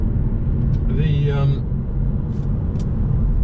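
A Volvo C30 R-Design with a 1.6-litre normally aspirated 100 bhp petrol engine cruises on the road, giving a steady low cabin rumble with road noise. Someone briefly speaks over the drone.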